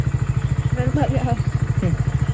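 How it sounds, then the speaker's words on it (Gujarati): A motorcycle engine idles with a rapid, steady thumping pulse close by, while a person talks over it. "બાઈક ભાઈ આપણે ચાલુ કરી નાખ્યું છે"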